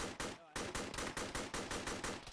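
Rapid automatic gunfire in a military shooter, a steady rattle of evenly spaced shots after a brief gap, close and loud with no talk over it.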